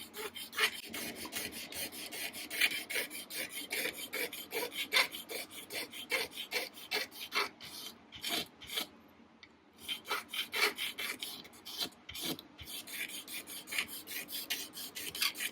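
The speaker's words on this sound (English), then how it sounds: "I'm going to scrape the top 5, and the rest of the frets I'm going to scrape too" Steady back-and-forth scraping of guitar frets along a wooden fretboard, a close, continuous rasping rub in quick strokes with a brief pause midway before the scraping resumes.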